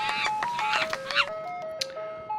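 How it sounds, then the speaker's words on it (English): An ice cream truck's chiming jingle plays a bright, steady melody of single tinkling notes, near and clear, with light voice-like sounds mixed in at the start. "Now would be the perfect time to hear the sweet sound of the ice cream truck."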